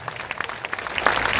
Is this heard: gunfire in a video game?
no